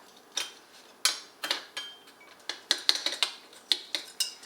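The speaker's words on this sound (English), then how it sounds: "use my spoon to kind of push everything down so that we make sure that we can fit Everything in" Light metallic clinks and taps as a spoon presses chocolate chip cookie mix down into a jar, scattered irregularly and close, with no talk.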